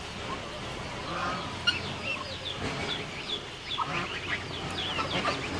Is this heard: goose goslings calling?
yes